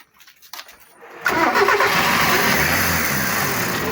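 A used Mazda car engine is cranked and started: after a second of quiet with faint clicks and a brief crank, the engine catches and settles into a loud, steady running rumble.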